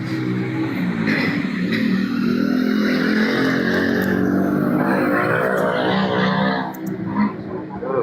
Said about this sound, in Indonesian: Suaranya knalpot